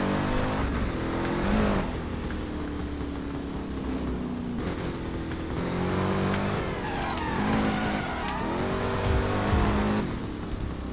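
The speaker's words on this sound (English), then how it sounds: "Oh, there's an oncoming car." An oncoming car drives through Driver: San Francisco, with a loud engine revving and shifting pitch throughout, a few tire squeals and passing whooshes cutting through.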